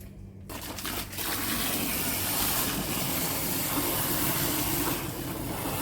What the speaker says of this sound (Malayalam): അതിനകത്ത് വെള്ളം വയ്ക്കും